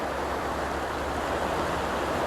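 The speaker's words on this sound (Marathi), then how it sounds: "ही अशी आहे मंदागिनी नदी" Steady, rushing water noise of the Mandakini River, constant and full like a fast river flowing nearby, with no voices.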